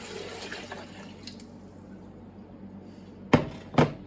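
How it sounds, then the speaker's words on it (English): Water is poured over onion ends in a hot pot, a quiet hiss giving way to two short, splashy bursts of pouring near the end. "I'm going to cover them with water."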